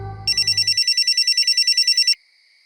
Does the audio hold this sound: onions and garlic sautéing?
no